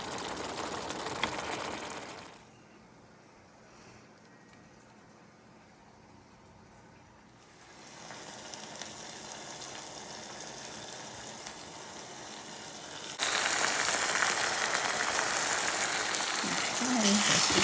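Ground beef for tacos sizzles steadily in a hot pan, a continuous bright, crackling hiss that dips quieter for a few seconds, then swells back louder and more intense, with faint voices in the background.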